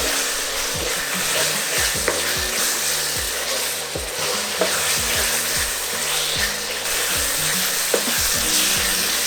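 Ingredients fry in a pot for Ghanaian jollof, giving a loud, steady hiss of sizzling oil close up, with occasional light knocks of a spoon against the pot and no voices.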